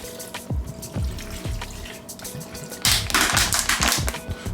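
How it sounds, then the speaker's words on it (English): Water is poured into a mixing container of deer sausage seasoning, a close splashing gush that swells into a louder rush of liquid, with scattered knocks from handling the container. "Now we can pour the rest of our water in there."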